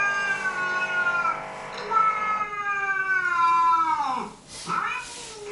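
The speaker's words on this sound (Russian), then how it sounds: "Драка кошек." Cats fighting in a recording: loud, drawn-out yowling caterwauls that waver and slide in pitch, with a brief break before another harsh howl.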